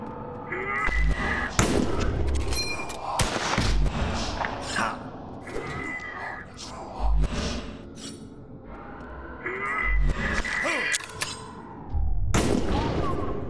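Gunshots and blasts from the game The Last Case of Benedict Fox, loud impacts scattered irregularly over a busy background of music and effects, several sharp bangs standing out across the stretch.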